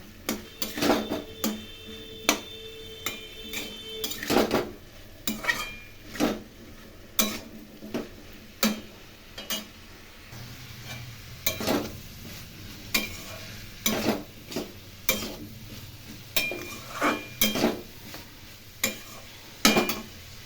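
Vegetables with turmeric and a little sugar are stir-fried hard in a pan. A spoon knocks and scrapes the pan in a repeated, fairly regular rhythm over a low, soft sizzle, close by and with no talking.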